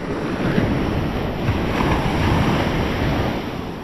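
Continuous rumble of surf washing onto shore, steady and broad, with gusty wind buffeting the microphone throughout.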